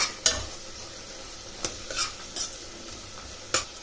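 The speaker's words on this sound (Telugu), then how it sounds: "తర్వాత కరివేపాకు, బిర్యానీ ఆకు, తర్వాత చెక్క, లవంగ, ఇలాచి, మరాఠీ పువ్వు ఇవన్నీ వేసుకొని కలుపుకొని పెట్టుకోవాలి" Curry leaves, bay leaf, cinnamon, cloves, cardamom and marathi moggu sizzle in hot oil in a pot for kuska pulao, with a few sharp scrapes and knocks of a stirring spoon over a soft crackle.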